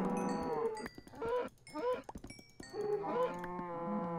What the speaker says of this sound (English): You ready, guys, for some more loud cow noises?